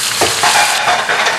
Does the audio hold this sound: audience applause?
no